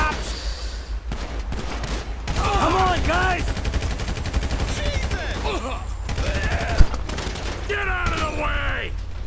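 Rapid bursts of gunfire ring out in Grand Theft Auto V, repeated volleys mixed with mechanical clicks and scattered game sounds, loud and fairly close throughout.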